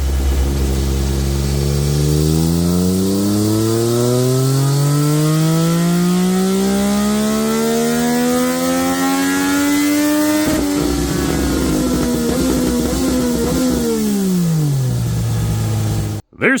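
A Yamaha R9 race motorcycle with a very lightweight titanium exhaust revs on a dyno, its engine note climbing steadily for about ten seconds, then holding and dropping away, loud and close.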